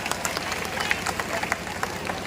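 Audience applause greeting a speaker at a Dalit land-rights rally in Gorakhpur, a steady wash of clapping from a crowd, fairly faint and continuous with scattered sharper claps throughout.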